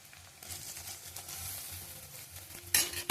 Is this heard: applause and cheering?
no